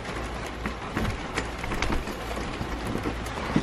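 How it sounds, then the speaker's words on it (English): Steady rain falls at a beach house on Shell Point Beach in Crawfordville, Florida, a continuous soft hiss of drops with faint scattered taps throughout. "And of course it's raining."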